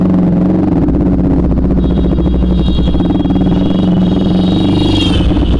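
A Bajaj Pulsar RS200 motorcycle with about 10,000 km on it idles loudly and roughly up close, its low exhaust rumble carrying gunshot-like crackles and pops that build toward the end.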